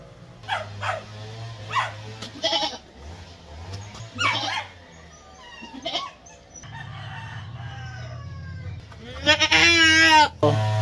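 Goat bleating during a vitamin B-complex injection, several loud, strained cries in irregular bursts, close by, mixed with other barnyard animal calls and a final intense outburst near the end.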